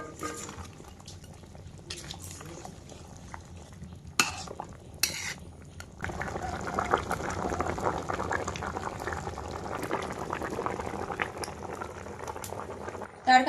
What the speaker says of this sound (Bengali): তরকারি বন্ধুরা টকবক করে ফুটছে